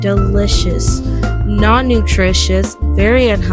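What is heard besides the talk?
None of the usual background noises is heard.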